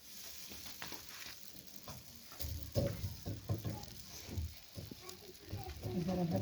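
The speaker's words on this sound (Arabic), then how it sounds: "درنا فوق المقله، كنقلبوا المقله بهذه الطريقه" Trid dough cooks in a dry frying pan with only a little oil, giving soft intermittent sizzles and patters as it is turned, with a few dull knocks of handling.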